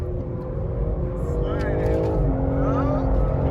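A BMW brakes hard on a race track, heard loud and close from inside the cabin: a constant roar of engine and road noise, with the engine note sliding downward as the car slows.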